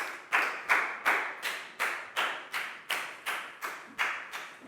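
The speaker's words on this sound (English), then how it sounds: "Big round of applause for Nadia." A Year 4 primary school class claps in unison for a pupil, producing a steady train of about a dozen sharp, evenly spaced claps close by, with no talking.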